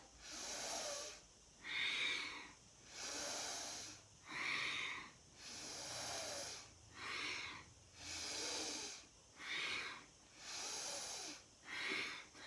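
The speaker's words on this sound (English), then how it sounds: "Breathing out. Breathing in. Breathing out." Steady, paced breathing in and out during a kundalini yoga exercise, each breath a close, loud hiss recurring about every second in an even rhythm with no talking.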